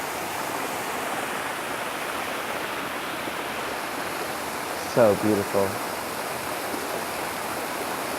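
Dallas water fountains running, a continuous broad rush of splashing water close by, steady throughout, with a brief spoken remark near the end.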